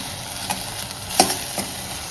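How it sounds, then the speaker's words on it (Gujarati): A sizzling tempering (vaghar) for vegetable khichdi crackles steadily in hot oil, with a couple of brief spoon clicks against the pan, close and brief, no voices. "સરસ તો આ વઘાર છે તૈયાર થઈ ચૂક્યો છે"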